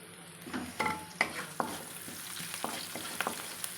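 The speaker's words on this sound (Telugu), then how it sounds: "ఇప్పుడు కొంచెం కరివేపాకు వేస్తాను" Curry leaves dropped into hot oil for a mirchi kurma curry, with a soft ongoing sizzle and several sharp crackles and pops spaced irregularly, plus light stirring, close and fairly quiet.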